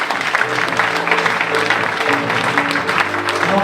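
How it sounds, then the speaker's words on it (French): An audience at a political meeting in Essey-lès-Nancy breaks into sustained applause, a dense wash of clapping hands that stays fairly loud and even throughout, with some crowd murmur mixed in. "Je vous demande de les applaudir."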